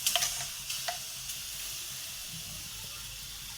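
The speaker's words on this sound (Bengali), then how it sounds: "কড়াই বসিয়ে দিয়েছি, আমি যে পেস্টটা বানিয়েছিলাম আমলকির, সেই পেস্টটা আমি কড়ার মধ্যে দিয়ে দিচ্ছি।" Amla (Indian gooseberry) paste sizzles and hisses in a hot wok, with a few sharp stirring clicks early on and a steady frying crackle carrying on alone at close range.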